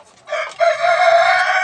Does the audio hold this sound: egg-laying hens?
yes